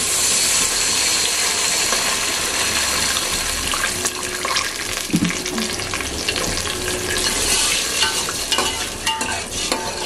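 Spices fry in a pan for a sheer kurma, a close, steady sizzle broken by stirring scrapes and occasional clinks.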